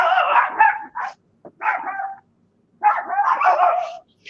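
Dogs barking outside at night, a few sharp barks and yips in quick bursts with short gaps between, fairly close and loud, no talking over them.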